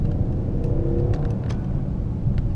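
Mercedes S63 AMG Coupe engine with a deep, close exhaust burble, a steady low rumble with faint crackles and pops over a few seconds, no talk.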